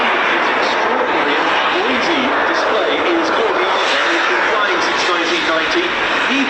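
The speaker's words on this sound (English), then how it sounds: "This extraordinary and noisy display is called the Avro." Avro Lancaster piston engines at the East Kirkby airshow make a loud, continuous droning roar close by, with a voice talking over it.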